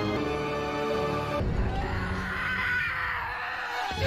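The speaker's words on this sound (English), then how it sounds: "What was that scream?" A scream from the film Doctor Strange in the Multiverse of Madness, a sustained, loud cry over the soundtrack that gives way to rumbling movie sound.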